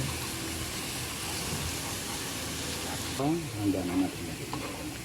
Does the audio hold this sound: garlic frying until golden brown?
yes